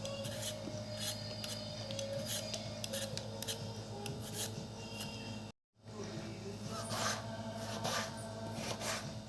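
Knife cutting chayote squash on a board while preparing a buttermilk curry, with soft repeated scraping and slicing strokes at close range, low in level, and a short silent gap partway through.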